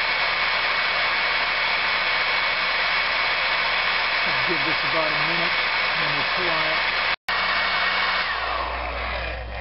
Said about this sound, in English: An old blow dryer.